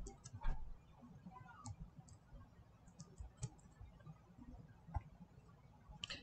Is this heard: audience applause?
no